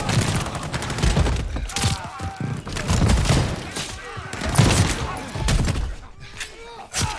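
Gunfire in the Call of Duty: Vanguard campaign, with bursts of rapid shots and thuds running through the whole stretch over a busy battle mix, under occasional talk.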